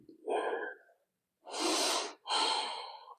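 Deep breaths during a hatha yoga stretch: one short breath, a pause, then two long, close exhales through the nose and mouth, with no talking.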